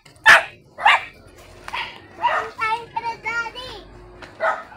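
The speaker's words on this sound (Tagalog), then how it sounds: "Galit na aso." An angry dog barks on a rural mountain path in the Philippines, giving sharp, loud barks spaced about a second apart with some whining yelps between them. A voice is heard briefly.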